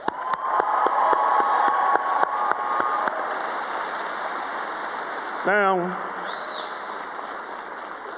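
A commencement crowd applauds and cheers the graduating class of 2019, a broad steady wash of clapping with scattered louder claps over the first three seconds, settling into a continuing murmur, with a brief voice speaking midway.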